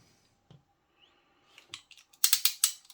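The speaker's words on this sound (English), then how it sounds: "the ratchet itself is lovely to use, even though it's missing a screw" A ratchet from a KATSU 420343 1/2-inch socket set, worn and missing a screw, gives a quick run of sharp, close clicks near the end after a few faint taps, with no talking.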